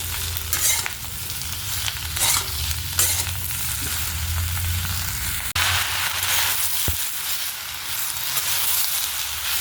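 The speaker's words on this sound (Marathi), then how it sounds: "कंटिन्यू कांदा हलवत राहायचा आहे" Onion being stirred continuously while it fries in a pan for a homemade curry masala spice mix, with steady close sizzling broken by repeated scraping stirs of a utensil; no voices.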